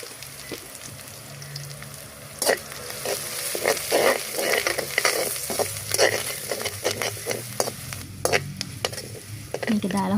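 Spices and kangkung fried in a pan with turmeric and pepper, giving a busy close sizzle under frequent rapid spatula scrapes and knocks, fairly loud, with no speech.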